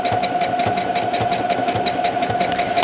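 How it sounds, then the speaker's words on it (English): A sewing machine stitches a simple skirt with its needle shifting side to side every few stitches, a fast, even mechanical chatter with a steady hum underneath, close and loud, with no voice. "the machine is going to shift the needle to the left every few stitches"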